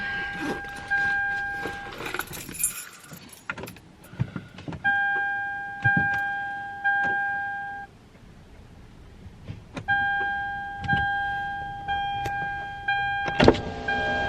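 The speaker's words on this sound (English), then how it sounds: "while I wait for my car to decide to turn on" A car engine repeatedly cranks without catching, in a series of surging whirring bursts about a second apart, broken by pauses and accompanied by steady warning chimes inside the car.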